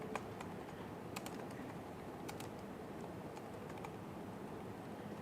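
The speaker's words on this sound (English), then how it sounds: "I can even type a command" Keys clacking on a computer keyboard as a git config command is entered, a quick irregular run of light taps close up over a quiet room hum.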